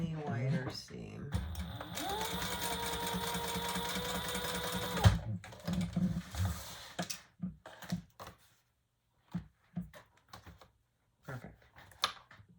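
A sewing machine stitches a leather sling bag seam in a steady, close run of several seconds, then stops, followed by scattered handling clicks and knocks amid quiet.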